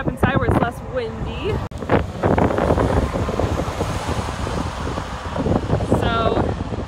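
Wind gusts buffet the microphone outdoors beside a new 2020 Peterbilt truck, a loud rumbling roar throughout, while someone talks over it.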